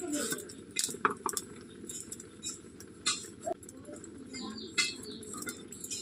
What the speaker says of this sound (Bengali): আমি এদিকে ডাল ফুটতে ফুটতে লাউটা কেটে নিই।